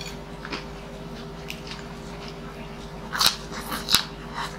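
Crunchy food is bitten and chewed up close, with a few sharp crackling crunches near the end over a quiet background hum.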